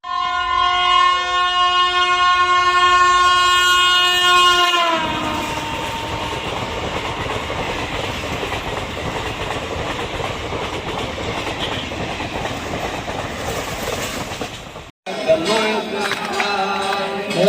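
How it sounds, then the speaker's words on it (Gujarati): A train passes a Hongadh railway level crossing, opening with a long, loud multi-tone horn blast for several seconds, followed by a sustained heavy rumble and rattle of wagons going by close, then a brief cut and continued rolling noise. "હમણાં ટ્રેન આવે એ આપણે તમને દેખાડીશું"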